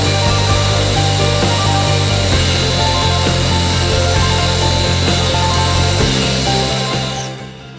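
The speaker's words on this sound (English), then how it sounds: "I first started cutting it out with the jigsaw, but that was taking too long, so then I took it to the bandsaw" A bandsaw cuts a wooden longboard shape, a loud steady buzzing whine with a grinding rasp that holds for several seconds and then tapers off at the end.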